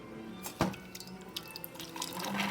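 A VBM espresso machine's hot-water wand dispensing, a steady hiss and trickle of water with a brief sharp click near the start, close and moderately loud.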